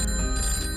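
A telephone rings with a bright, electronic-sounding ring over a low steady hum, loud and close, with no voices.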